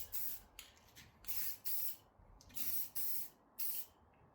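Spray paint hisses onto the aftermarket wheels of a 2020 Subaru WRX in about six short, even bursts, close and clear with brief silences between passes.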